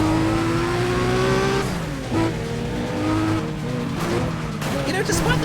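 Nissan Skyline engine in the racing game Need for Speed ProStreet, a loud droning engine tone with rising and falling revs and gear shifts, heard over a continuous race soundtrack.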